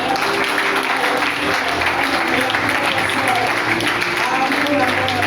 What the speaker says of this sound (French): est-ce qu'on peut acclamer pour le frère?